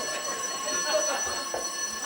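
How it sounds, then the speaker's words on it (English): An alarm bell rings continuously with a steady metallic tone, heard at moderate distance under some faint background noise. "The fire extinguisher sounds the alarm."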